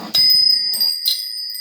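Small brass bells on a long chain ring out in bright metallic chimes, a few close, clear strikes whose tones linger and fade between hits.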